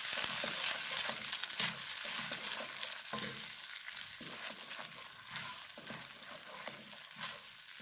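Potato paste mixture sizzling and frying in a pan while being stirred, a continuous crackling hiss with scraping stir sounds, close and fairly loud with no talk.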